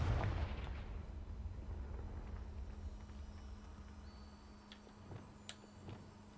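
In the video game Hogwarts Legacy, the Confringo blasting spell detonates with a deep, heavy boom right at the start, then a long fading rumble under a steady low hum, with a few faint ticks near the end and no voices.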